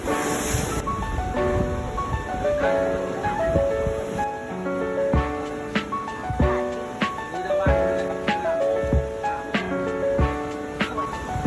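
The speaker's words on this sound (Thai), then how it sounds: "ลมแรงและคลื่นแรงมากนะครับ" Strong wind and heavy waves at a beach on Koh Phangan at night, with a steady windy roar and surf crashing over it, close and continuous, no talk.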